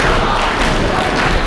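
Spectators at an ETWA wrestling event roar in a loud, continuous cheer for Blade Bandit, a close, dense wall of crowd noise.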